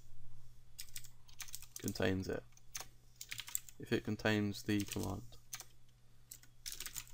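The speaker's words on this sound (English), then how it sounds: "I'm so used to typing in a different language now, I'm typing curly brackets." Computer keyboard typing while code is written, steady clicking keystrokes running through the whole stretch under a man's continuous speech.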